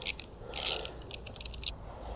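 A bolt being wound out of a Suzuki SV1000 motorcycle radiator mount, with short metallic ratcheting clicks and scraping in quick irregular bursts, close and fairly quiet.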